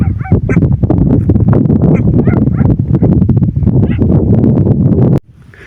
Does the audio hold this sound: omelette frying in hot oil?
no